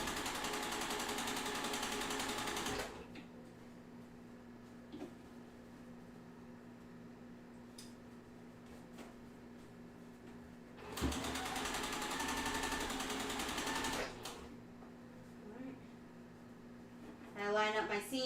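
A sewing machine stitches quilt seams in two steady, whirring runs of several seconds each, separated by quieter stretches where a person talks close by.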